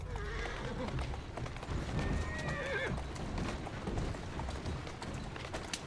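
Horse hooves clip-clop steadily with a whinny partway through, from a horse in the Assassin's Creed Syndicate video game, set among street ambience and other game sounds.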